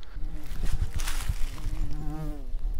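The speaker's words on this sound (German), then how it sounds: "Hier interviewen wir mal eine Biene, weg ist sie wieder." A bee buzzes close by, a steady droning hum under someone talking in German, briefly rising and wavering before it moves off.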